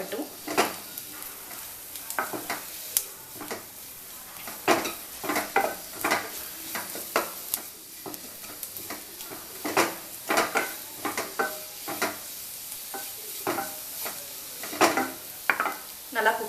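Mushroom masala seasoned with pepper powder sizzles in a pan while a spoon repeatedly scrapes and stirs, sharp clinks of metal on metal recurring over a steady frying hiss.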